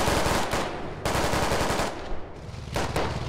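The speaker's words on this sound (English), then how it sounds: "Inside the compound, a little bit of a shooting here from Dragon." Automatic and rifle gunfire in the military shooter game Squad, a firefight inside a compound: dense, loud bursts of rapid shots in several volleys with brief gaps, no talk.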